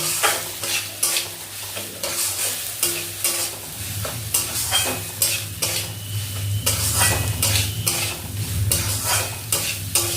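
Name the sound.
stirring spices with turmeric in a pan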